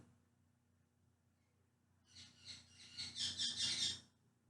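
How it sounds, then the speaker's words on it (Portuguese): A bird sings faintly in short high chirping bursts that start halfway through and grow a little stronger, over a quiet background with a low steady hum; no talking. "Esse pássaro é um pássaro que acompanha."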